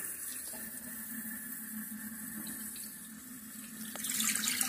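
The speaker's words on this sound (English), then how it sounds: "And I'm going to put in 4 cups of tap water." Tap water runs steadily into a 2-cup measuring cup, a continuous close splashing hiss with no speech, growing a little louder toward the end.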